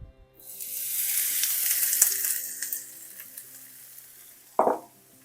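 Onions hit hot avocado oil in a pan for shrimp fried rice with a loud burst of sizzling that slowly settles into a steady fry, ending with a brief clunk near the close.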